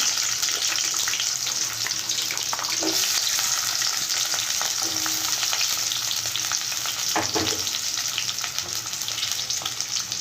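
Onion pieces fry steadily in a pan for gongura chicken, a dense continuous sizzle with a few scraping stirs of the spoon, close and fairly loud throughout with no voices.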